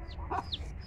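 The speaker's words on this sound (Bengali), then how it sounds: "দেখো মুরগিগুলো ডিম পারে পেরেছে কিনা" Hens on a small farm cluck in short soft bursts over a low background rumble, with a few brief calls close by and no talking.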